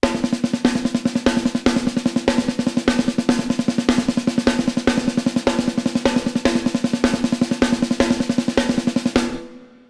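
A drum kit plays a fast, steady paradiddle-diddle sticking pattern with regular accents, loud and close, ringing briefly before fading out at the end.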